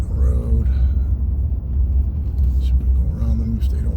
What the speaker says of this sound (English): Friggin' mail truck in the road.